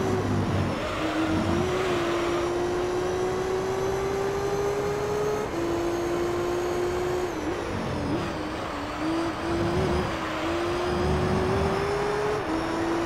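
Racing car from the game Gran Turismo Concept 2002 (Tokyo-Geneva) on its final lap, engine note steady and rising in long sustained pitch sweeps with brief dips at gear changes, loud and continuous with no talk.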